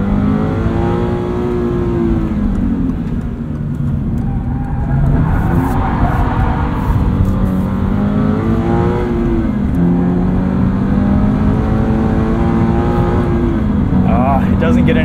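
A 2022 Subaru BRZ accelerates up a motorway entrance ramp. Its engine drone rises through the gears in several pitch sweeps, loud and close from inside the cabin, with a person talking over it at times.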